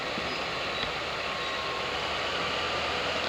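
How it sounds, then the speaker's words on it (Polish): A locomotive shunting at a rail depot, a faint, distant, steady rumble of engine and rolling stock with no voices. "Lokomotywa tutaj sobie na razie tylko tak podjeżdża."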